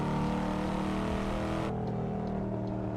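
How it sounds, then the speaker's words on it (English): A car engine revs loudly in a video game fitted with a sound mod, a dense continuous roar that drops abruptly to a lower, duller drone partway through, with no speech. "I do have the same car in real life, and the sound is pretty spot on."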